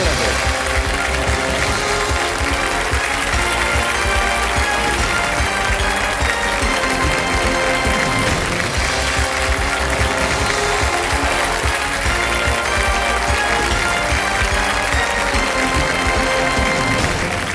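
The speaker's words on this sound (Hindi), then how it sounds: "तालियों के साथ इनका हम एक बार फिर अभिनंदन करते हैं।" Studio audience applauding on the KBC Season 14 game show set, a broad sustained wash of clapping mixed with music and bustle, loud and continuous throughout with no clear gaps.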